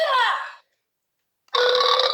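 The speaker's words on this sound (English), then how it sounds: "You burp." Two short burp sound effects from a toy or sound-effect player, the first fading out after about half a second, then a pause of silence before a second, brighter belch-like blast that runs to the end, loud and close.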